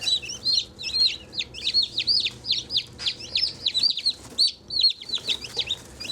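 Newly hatched chicks peeping in rapid, high, repeated chirps close by, one bird after another in a continuous busy chorus, with a faint low hum beneath.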